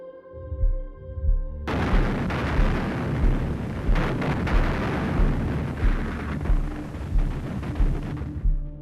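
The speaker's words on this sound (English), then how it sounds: "the deafening roar of Soviet gunfire" Heavy Soviet artillery fire in the Battle of Berlin booms repeatedly over a continuous rumbling roar, with irregular thuds and crackling bursts for several seconds.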